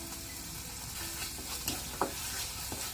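Turmeric, salt and spices fry in a pan, giving a low, even sizzle. A few scattered spoon scrapes and clicks stand out, with no voices.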